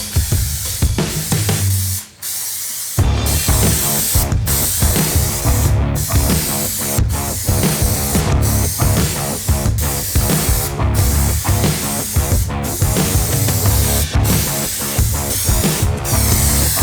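Spray gun painting a BMW E36 car body over primer, a loud continuous hiss with rhythmic short breaks between passes, steady and close throughout.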